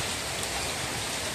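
Steady rain falls at a managed fishing pond on an October day, a dense, even hiss of drops on surfaces, close and continuous with no voices.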